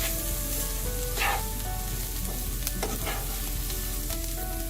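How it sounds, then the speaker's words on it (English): Kale stirred as it fries in oil in a pan with spices: a steady, close sizzle throughout, with a few louder scraping stirs breaking through. "Give it a good stir."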